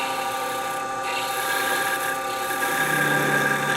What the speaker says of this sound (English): I'm going to take a skew and smooth that out